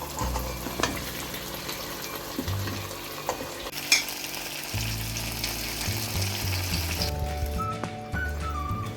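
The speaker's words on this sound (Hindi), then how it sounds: "अब मैं इसमें आलू डाल दूंगी, ये मैंने जो फ्राई किए हुए थे आलू।" Pre-fried potatoes tipped into sizzling spiced masala for dahi aloo, a busy close frying hiss with clatters and scraping stirs, plus a faint tap-like trickle near the end, no talking.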